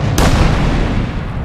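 A KTX high-speed train bursts from a tunnel with a single sharp, loud boom, followed by a rumbling roar that slowly tails off.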